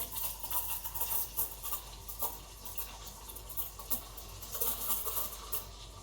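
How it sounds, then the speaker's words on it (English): A steady hissing, papery sputter of a Breville Dual Boiler BES920 espresso machine's steam wand aerating milk, with irregular crackling bursts throughout, close and fairly loud. "I'm aerating the milk now."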